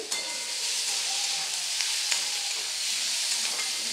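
Curry leaves frying in hot oil for a masala dosa potato filling, giving a steady, bright sizzle with small crackles and pops throughout, close and continuous with no voices.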